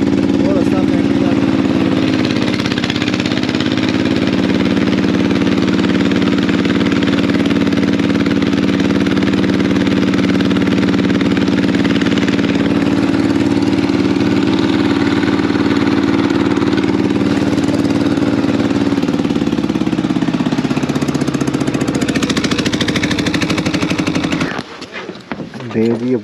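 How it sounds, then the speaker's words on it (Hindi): A generator engine drones steadily aboard a river ferry boat crossing the Indus, loud and close with a rough pulsing rumble that holds for most of the stretch before cutting off near the end. "तो ये बंद करेंगे अभी जनरेटर जनरेटर अपने"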